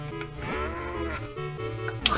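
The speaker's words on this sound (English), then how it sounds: "talk to these cows. Oh, and moo." A cow moos in the video game The Legend of Zelda: Minish Cap, one long stylized low lowing call lasting about two seconds, clear and close, with no talking.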